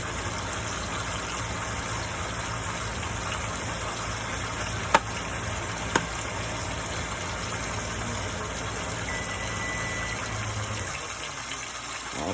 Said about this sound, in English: Alright, I got the fan on.